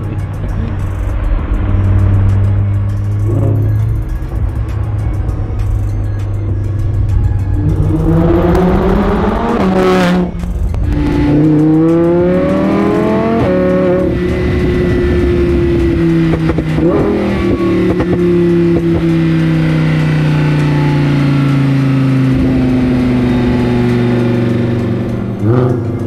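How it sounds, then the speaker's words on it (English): A supercharged, straight-piped Audi R8 V10 revs hard and loud, with rising and falling engine sweeps, sharp throttle blips and a sustained high scream, close and alone without talk. "Alright, straight pipe, V10, Audi R8, supercharged."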